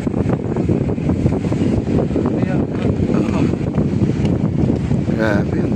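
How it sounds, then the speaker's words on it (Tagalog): Strong wind gusts buffet the microphone high up at Fort Santiago, producing a loud, continuous rumbling rush with uneven surges throughout, and faint background sounds mixed in. "Napakasarap dito sa itaas dahil ang lakas ng hangin."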